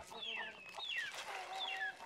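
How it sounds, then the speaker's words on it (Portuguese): Chickens cluck and squawk busily while being fed corn outdoors, several birds close by with overlapping calls and a steady background. "o milho é o melhor alimento para galinha"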